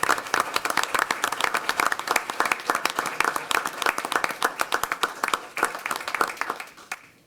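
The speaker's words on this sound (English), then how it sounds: "So if we give him a round of applause." Audience at a Snoqualmie city council meeting applauding, a modest crowd of distinct individual claps with an uneven rhythm, moderately near, tapering off at the end.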